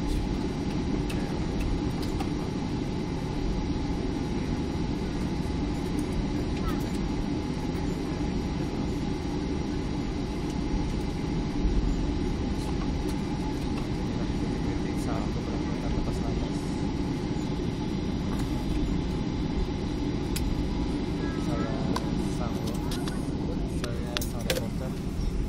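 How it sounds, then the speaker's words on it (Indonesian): Inside a passenger plane taking off from Sultan Iskandar Muda Airport in Aceh, a steady loud cabin roar of jet engines fills the space, with people talking over it. "Ladies and gentlemen, we are ready for takeoff."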